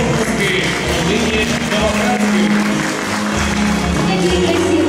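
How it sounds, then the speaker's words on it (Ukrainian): Audience applause at a Ukrainian family celebration, loud and sustained, a dense wash of clapping from a crowd with voices mixed in throughout. "Через ваші оплески!"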